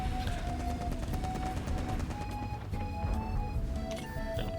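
Tank cannon fire in World of Tanks, loud sharp reports and mechanical clatter in a continuous dense battle mix, with no talking in between.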